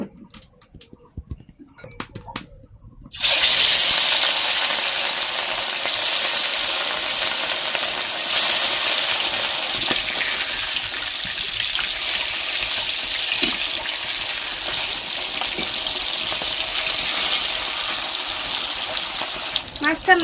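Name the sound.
fish rubbed with salt and turmeric frying in hot oil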